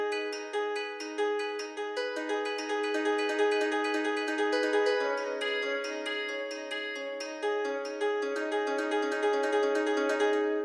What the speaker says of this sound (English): I've been loving the Fink acoustic guitar from Spitfire here, and I'm just using the Brady thumb notes.